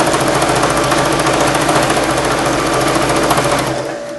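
A sewing machine running steadily while stitching a baby blanket, a loud continuous motor whir with a rapid needle chatter that holds for about four seconds, then eases off at the end.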